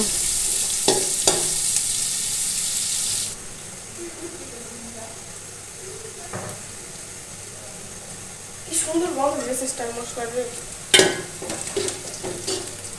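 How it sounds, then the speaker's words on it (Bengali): Chopped onions frying in a pan for a Chattogram-style rice biryani, a bright sizzle that drops to a quieter simmer, with intermittent stirring clatter and a voice speaking briefly near the end. "পেঁয়াজগুলো ভাজা হয়ে গেছে"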